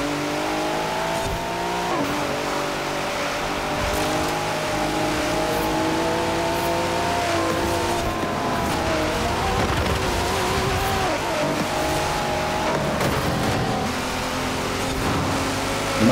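A McLaren Senna racing in Forza Horizon 4, its engine holding a loud, steady high-revving roar with brief gear-change dips and rises, continuous and close for the whole stretch.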